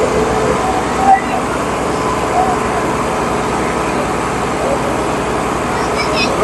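Tractor engines, a New Holland Ghazi 65 HP and a Millat 260, roar steadily through a tug-of-war contest, their dense droning noise continuous under loud crowd voices and shouting.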